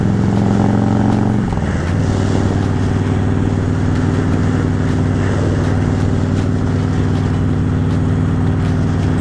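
A serviced motorcycle on a test ride, its engine and exhaust droning loudly and steadily close by, with a brief dip in revs near the start before settling into an even cruising note.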